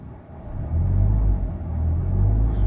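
A Suzuki Ertiga Hybrid automatic MPV accelerating, giving a low, rumbling engine surge that swells and eases in close, with no talk over it.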